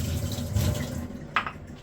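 A leaky kitchen tap runs water into a sink, a steady close splashing stream that trails off into a few brief drips and splashes.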